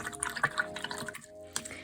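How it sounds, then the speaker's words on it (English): Paintbrushes swished and rinsed in a container of water, giving quick small splashes and drips, fairly quiet and close. "so let's rinse both of those brushes"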